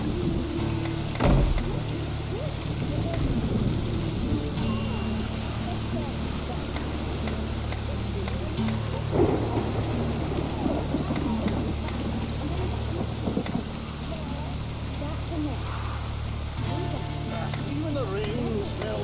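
Steady rainfall in the fantasy video game The Witcher 3: Wild Hunt, a continuous hiss of falling rain with scattered drips and a few low rumbles, running under occasional talk.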